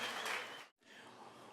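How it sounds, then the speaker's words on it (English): Applause from a Moth StorySLAM storytelling audience, a dense burst of clapping that breaks off abruptly, then resumes more softly. "Everybody, round of applause."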